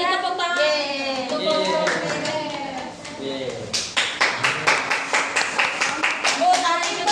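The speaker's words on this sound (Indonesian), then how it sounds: "Beri tepuk tangan." Sixth-grade students in a classroom clap for classmates who have just presented. Children's voices come first, then a burst of quick, fairly even group clapping takes over for the final few seconds.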